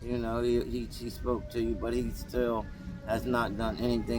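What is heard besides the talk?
No distinct noise like a dog, phone or traffic.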